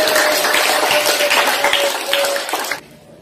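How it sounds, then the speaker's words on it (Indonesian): Group of students clapping together in a school classroom, a dense, loud burst of hand claps lasting nearly three seconds before cutting off abruptly into near silence. "mari kita tepuk tangan dulu"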